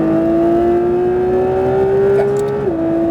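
A Porsche 992 GT3 RS accelerates at full throttle on track near Le Mans, a loud, rising engine howl climbing steadily before a quick gearshift dips the pitch and it keeps pulling, heard from close inside the car.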